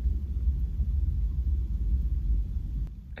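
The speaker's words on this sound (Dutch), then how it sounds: "Het waait hier zo hard. Het stormt echt." Strong storm wind on the French Riviera, heard as a steady, loud low rumble and roar that buffets the microphone for the whole stretch, with no talk over it.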